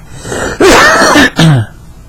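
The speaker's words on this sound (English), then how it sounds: "Now I'm going to cough." Two loud, harsh coughs close to the microphone, the first drawn out and the second short after a brief gap.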